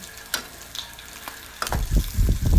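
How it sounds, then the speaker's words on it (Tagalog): Fried fish pieces sauté in a pan with soft sizzling, then stirring scrapes and clatters grow louder near the end, close and without talk. "igigisa yung napritong isda na baralyete"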